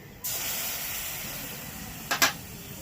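Soaked whole asafoetida (hing) dropped into a hot kadai bursts into a loud, steady sizzling hiss that holds throughout, with a couple of sharper crackling spurts near the end.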